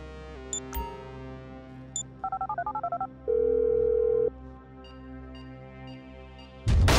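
A phone call is dialed in Grand Theft Auto V: a dial tone, a quick run of touch-tone keypad beeps, a steady tone, then sparse electronic blips and a sudden louder burst at the end.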